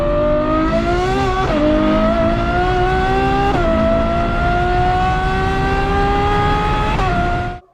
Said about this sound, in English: But a Ferrari sounds crazy as well.